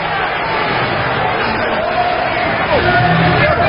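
Football stadium crowd at an XFL game between the Orlando Rage and NY-NJ Hitmen groans in displeasure after a short kick, a broad continuous murmur with a faint whistle-like rise that swells slightly near the end.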